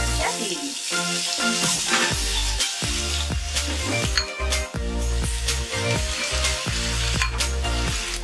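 Potatoes and cauliflower fry in hot oil with a steady sizzle, broken by clinks of stirring against the pan, all under prominent background music.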